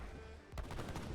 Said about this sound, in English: Cannons out for Russia.